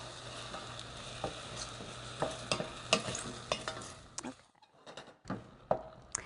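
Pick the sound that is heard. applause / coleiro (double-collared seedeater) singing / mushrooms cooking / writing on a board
mushrooms cooking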